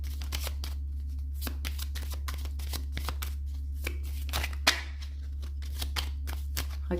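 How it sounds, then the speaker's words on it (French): Tarot cards are shuffled in a steady run of quick riffling snaps and soft slaps, fairly close, over a constant low electrical hum. "Donc, je bats les cartes."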